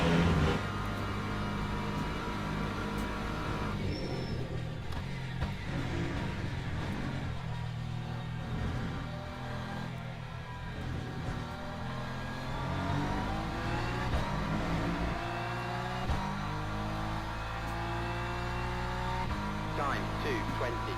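Hypercar engine in a sim racing game revving and shifting continuously, a loud sustained drone with rising and falling pitch sweeps throughout, no speech over it.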